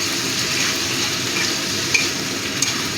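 Ginger garlic paste hitting hot oil in a frying pan for a fish curry makes a continuous, fairly loud sizzle with a couple of faint clicks, heard up close.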